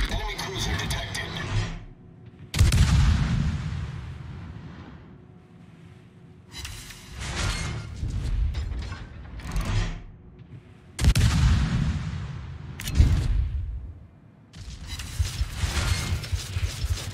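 Naval artillery in a battleship video game: several heavy, booming gun salvos fire one after another, each a loud blast with a rumbling tail, separated by short quieter gaps of mechanical clanking and game sounds.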